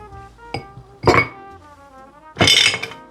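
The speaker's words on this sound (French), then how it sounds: "Vous allez remettre la glace" Ice goes back into a cocktail glass with a few sharp clinks and clattering knocks, two short bursts separated by a quieter gap, close and fairly loud with no talk.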